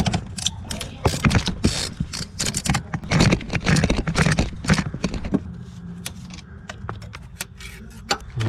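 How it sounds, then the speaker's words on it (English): A ratchet with a 13mm socket on an extension breaks loose the starter bolts on a 2003-2008 Mazda 6 V6, giving rapid, loud clicking bursts with metallic clunks close by. "Okay, 13mm socket, get it down there. Let's break the bolts free."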